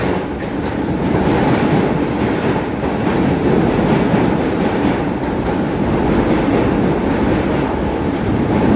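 A Comeng electric train, unit 7005 in PTV livery, rumbles steadily at a station with a loud, continuous broadband roar and faint rhythmic wheel clatter, no voices.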